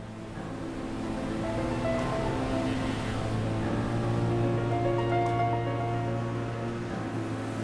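Ocean waves breaking and washing over a sandy beach where a sea turtle hatchling struggles toward the water, a steady, continuous surf roar with no voices.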